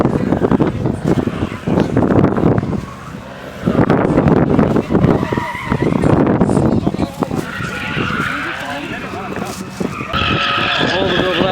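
An Infiniti G37 and a BMW E46 drift at a car show drift track on a drag strip, with loud sustained tire squeal and skidding over engine revs and wind buffeting, and a voice talking over it.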